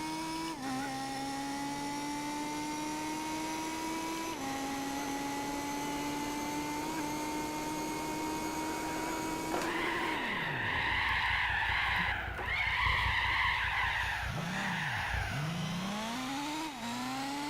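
An all-wheel-drive race car attempting donuts in Gran Turismo 4: a steady engine drone, then loud sustained tire squeal and skidding with the engine revving up and down as it spins.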